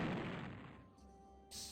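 A single weapon shot in the Worms Armageddon video game, a loud low boom at the start that fades out over about a second, with a brief burst of noise near the end.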